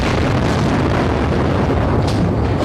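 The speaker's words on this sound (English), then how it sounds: "an especially big explosion shook the night, apparently from a bomb that hit near the information ministry" A powerful bomb blast near the information ministry in Baghdad at night, a continuous loud, dense rumbling roar filling the whole moment with no voices.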